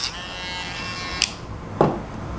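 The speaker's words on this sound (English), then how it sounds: "So I'm going to use my Dremel to cut off a section from the bottom of this" A Dremel rotary tool whines steadily while cutting into plastic, a close, thin high-pitched buzz with two short sharp clicks or snaps partway through.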